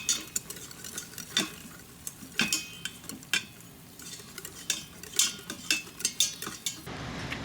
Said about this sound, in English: So we want to mix up and get all the little bits off the bottom.